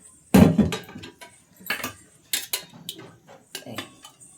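Metal cooking pot set down on a stove, clattering and clinking in several sharp knocks and scrapes close by, with no talking.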